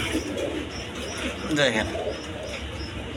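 Pigeons at a Bangladeshi bird seller's, with soft cooing and light calls close by beneath a voice talking over them.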